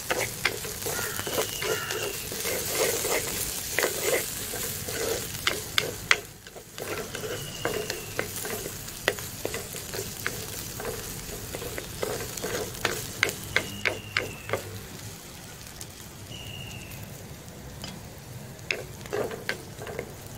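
Green chillies and curry leaves fry with garlic, ginger and onion in a pan for a dhal dish, giving a steady close sizzle broken by frequent sharp scraping stir strokes.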